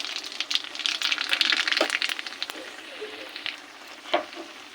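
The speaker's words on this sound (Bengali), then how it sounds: "তেল গরম হয়ে গেছে, এবার দিয়ে দেবো শুকনো লঙ্কা আর কালো জিরে ফোড়ন।" Dried chillies and nigella seeds hit hot oil, giving a bright crackling sizzle that is busiest at first and then thins to scattered pops, close and moderately quiet.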